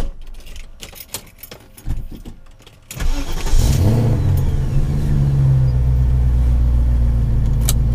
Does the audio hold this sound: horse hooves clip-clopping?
no